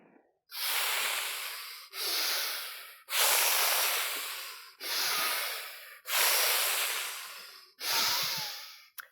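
Deep breathing during a meditation practice: six long, loud, airy breaths close to the microphone, each about a second and a half with short pauses between, no talk.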